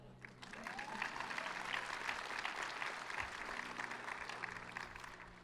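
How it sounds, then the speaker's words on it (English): Faint, distant applause from a large audience at the Marist College 73rd commencement, a dense, even patter of many hands that swells and holds steady for several seconds. "You can applaud them now."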